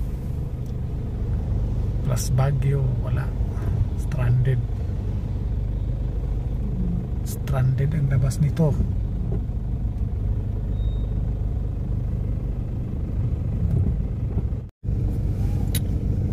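Heavy road traffic near Pagbilao, Lucena, with many vehicles on the road: a constant low rumble of engines throughout, with someone talking over it at intervals.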